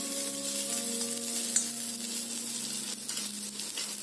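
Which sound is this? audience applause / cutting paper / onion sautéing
onion sautéing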